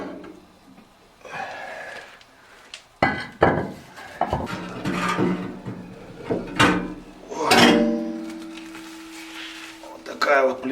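Metal parts are pulled out of a fireplace firebox, giving sharp clanks and knocks with scraping between them, fairly close and irregular. Someone talks over much of it.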